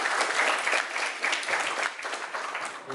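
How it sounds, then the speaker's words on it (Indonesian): An audience at a national-awareness seminar claps after a talk, a short, dense burst of applause from many hands that stays even and fairly loud for about three seconds. "Silakan tepuk tangan."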